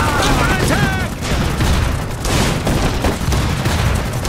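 A dense, loud volley of gunfire and booming blasts from the video game Iron Harvest, dotted with rapid shots and steady throughout, with a voice speaking over it.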